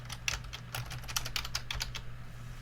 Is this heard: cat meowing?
no